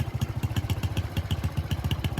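An old, worn-out motorbike carrying a passenger, its small engine chugging in a steady rapid pulse close by, with a light rattle throughout and no talking.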